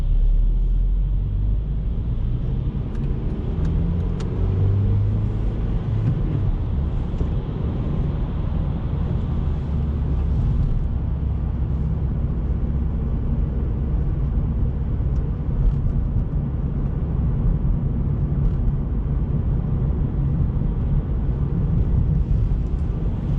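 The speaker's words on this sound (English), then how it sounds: "put to second gear, gonna give a little bit of gas, clutch out" Car engine with a manual gearbox, a steady low rumble running throughout, swelling slightly as gas is applied after a shift into second gear.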